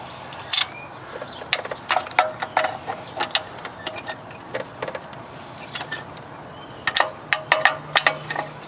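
A ratchet tightens a bolt on a 2000 Corolla engine, giving quick bursts of sharp, close clicking with short pauses between strokes.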